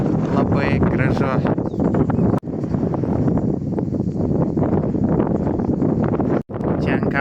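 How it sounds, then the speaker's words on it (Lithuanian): Strong wind roars and buffets across a hilltop about 750 metres above the sea in the Cap de Creus natural park. It makes a loud, continuous rush with only brief drops, and a voice is faintly mixed in. "Čia ant kalno žymiai stipresnis vėjas"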